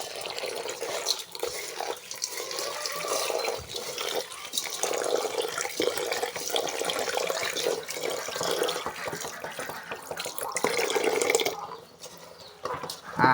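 Water poured out for ducks at feeding time, a long splashing, trickling stream with drips, loud and close, thinning out near the end.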